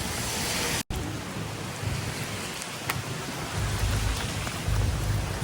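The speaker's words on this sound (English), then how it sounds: "Hey guys, it's actually pouring raining," Pouring rain in Hawaii, a loud, constant roar of heavy rainfall with a brief cut near the start and low rumbling swells later, no voices.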